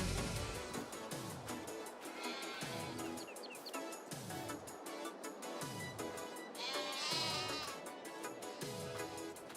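Sheep bleat repeatedly in a farming video game set in Germany, with several overlapping, fairly loud calls in a rough rhythm over a soft ambient background and occasional bird chirps.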